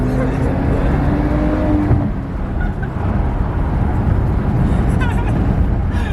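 A BMW E90 with the N55 turbo engine rumbles with a deep, continuous low exhaust burble and gurgle, heard steadily and fairly close throughout with no speech.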